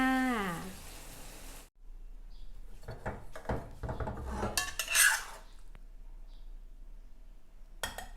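A pan and utensils clatter as stir-fried luffa with egg is served, with a few sharp scraping and clinking knocks spaced apart over quiet background, after a brief tonal sound at the start.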